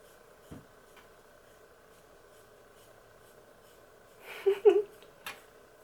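Scissors snip through curly hair during an at-home wolf cut: one soft snip early, then a quick cluster of crisp cuts near the end, up close in an otherwise quiet room.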